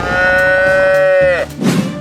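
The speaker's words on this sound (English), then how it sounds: "Cow." A cartoon cow in a 3D animal slide video game gives one long, loud, steady moo that drops in pitch at the end, followed by a short rumbling burst of game sound.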